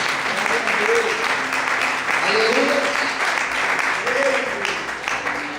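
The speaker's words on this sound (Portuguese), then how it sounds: "Quem crê, glorifique e aplauda ao Senhor nessa noite" A church congregation applauds in a sustained, dense wash of clapping, with a voice calling out and singing over it.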